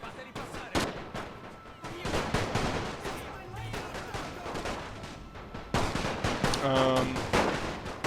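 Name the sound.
gunfire and artillery shots landing in a video game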